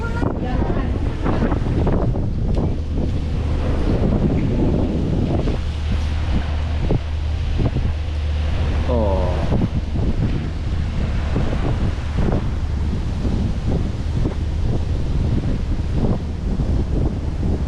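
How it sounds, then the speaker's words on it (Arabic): Steady cold wind buffeting the microphone in Lucerne, Switzerland, a constant low rumble and roar lasting throughout, with faint voices underneath at times. "واحد الريح واحد البرد."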